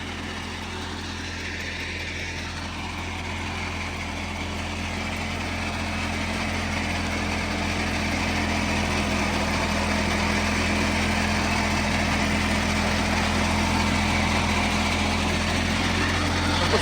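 A new tractor engine runs steadily with a tiller attached, a low continuous rumble that slowly grows a bit louder, with no voices.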